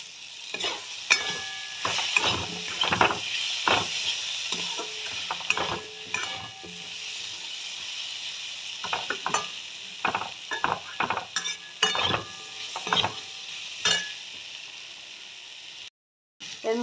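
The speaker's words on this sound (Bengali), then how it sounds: "ভালো করে আমি এটা কষিয়ে নেব" Tilapia chorchori, a Bengali fish curry, sizzles and fries in a pan while a spoon stirs it, with frequent scraping and clinking strokes over a constant close frying hiss and a brief dropout near the end.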